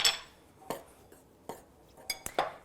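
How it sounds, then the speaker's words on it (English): Flour, baking powder and salt stirred in a mixing bowl for biscuits: a few separate clinks and scrapes of a utensil against the bowl, sparse and fairly close, with quiet gaps between strokes. "We're going to add our baking powder, a little bit of salt, give that a quick stir."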